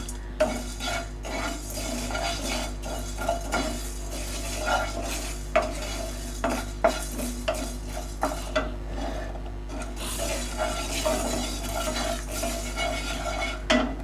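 Coriander seeds dry-roasting in a pan for a chicken roast spice mix, a soft continuous sizzle with frequent scraping stirs and light clinks of a utensil, close and steady for several seconds, no voices, over a constant low hum.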